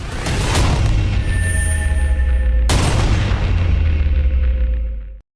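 Gunfire in the mobile shooter game Sniper 3D Assassin: two loud, booming blasts, each with a long dense rumbling tail, the second cutting in midway and fading out at the end.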